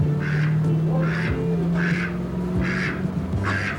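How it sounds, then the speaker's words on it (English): A duck quacks five times at an even, unhurried pace, loud and close, each call a raspy burst over a low background hum. "And there was that duck from the Lucky Duck."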